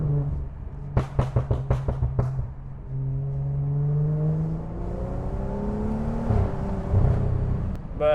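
BMW 535i with a full exhaust and turbos heard from inside the cabin: a quick burst of sharp exhaust pops and crackles, then the engine pulls with a rising turbo whine that climbs and holds.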